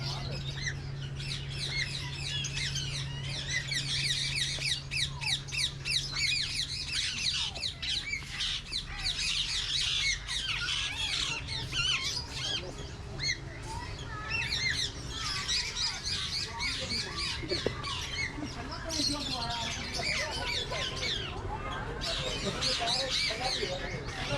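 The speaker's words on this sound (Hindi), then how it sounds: "ये इस तरह के तोते तो घर में भी लोगों ने पाले होते हैं। ग्रीन पैरोट्स हैं ये।" Green parrots squawking and chirping in the parrot section of Bahawalpur Zoo in Pakistan, a dense, continuous chorus of shrill calls throughout, with people talking nearby.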